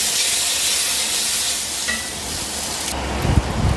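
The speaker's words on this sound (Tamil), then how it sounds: "எண்ணெய் சூடானதுமே கடுகு போட்டேன், பொரிஞ்சுக்கிட்டு இருக்கு" Mustard seeds splutter in hot oil, a loud continuous sizzling hiss close by, with a few low bumps toward the end.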